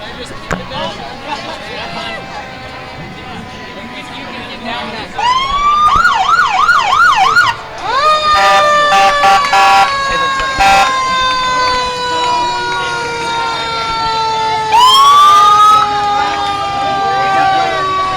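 A Roseville Fire Department fire truck rolls by in a homecoming parade, its siren wailing and whooping loudly, with air-horn-like blasts and a rising mechanical wail. A crowd murmurs beneath it, and a voice talks over the siren.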